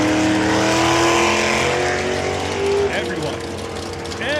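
1966 Chevelle drag race car making a loud pass down the strip, its engine note rising steadily and then dropping away, with announcer talk running over it.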